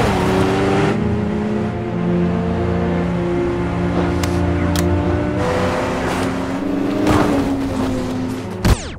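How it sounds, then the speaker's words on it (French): Jason Statham's car roars in an Expendables action scene as he drives to destroy a missile launcher: a loud, close engine with sustained revving tones that shift in pitch, ending in a sharp bang. "Que Jason Statham détruise le lance-missile avec sa voiture."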